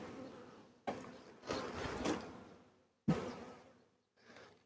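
Honeybees buzz at the entrance of a hive during an early spring inspection, in faint close bursts with knocks and handling noises from the hive between them.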